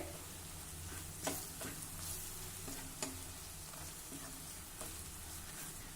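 Dal sautéing in a pan with turmeric and red chili, a steady close sizzle and fry with a few sharp stirring clicks and scrapes, no voices.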